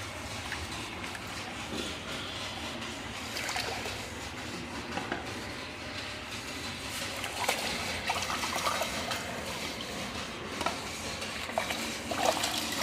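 Banana peel is stirred into water at a one-to-ten ratio to make plant fertilizer, giving a soft, continuous sloshing and trickling with occasional small knocks from the container, fairly quiet and close.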